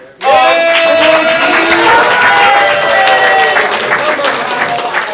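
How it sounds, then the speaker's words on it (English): Audience at a live ComedySportz improv comedy show bursts into loud, dense applause and cheers that start abruptly and hold steady, with music playing along under the clapping. "So, big applause for Captain"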